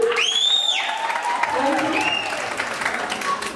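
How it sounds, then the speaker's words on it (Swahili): Steady applause from a crowd fills the whole moment, with a few whistle-like tones sliding over the clapping. "Mazo ni makofi ma ngiri 20 tafadhali"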